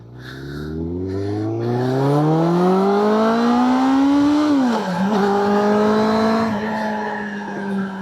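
A Suzuki Bandit 600 GSF motorcycle ridden along country lanes at dusk. The engine note climbs steadily under acceleration, dips at a gear change, then pulls on loud and close, with no talking.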